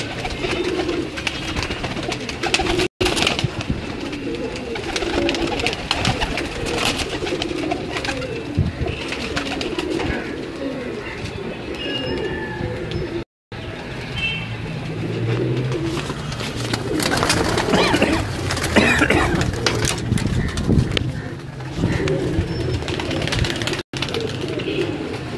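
Female pigeons kept on a rooftop coo in low, repeated rolling calls over a constant busy background hum, with intermittent faint voices nearby.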